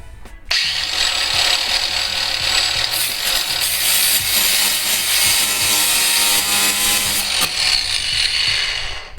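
A power tool grinds and saws through the rear bumper of a Mitsubishi Evo 9, a loud, continuous harsh cutting noise close up that starts abruptly and runs steadily throughout.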